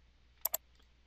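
Two quick mouse clicks land close together, crisp and faint against a quiet room, with a much softer tick shortly after.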